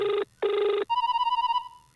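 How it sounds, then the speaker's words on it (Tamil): A telephone rings close by in two long electronic trill bursts, followed by a steady warbling tone, loud and clear with no talking over it. "என்ன ரிங்கு பக்கத்தில் அடிக்கிற மாதிரி இருக்குது?"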